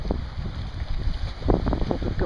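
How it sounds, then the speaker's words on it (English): Strong wind gusting across a microphone beside Lake St. Louis on a very windy day with choppy water, a steady low roar with buffeting surges and no talk. "Very windy today."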